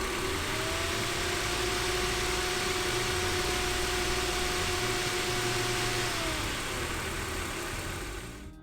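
A BMW E36 engine idles steadily nearby with a low, even hum and a faint whine, holding constant before easing slightly at the end.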